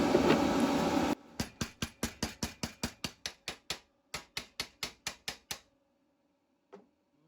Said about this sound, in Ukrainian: Зараз я візьму молоточок.